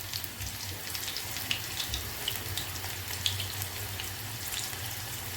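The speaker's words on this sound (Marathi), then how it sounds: "एका साईडने थोडेसे फ्राय व्हायला द्यायचे" Soya chunk pakodas fry steadily in hot oil, giving a continuous bubbling hiss with scattered small pops and crackles throughout, close by and alone without voices.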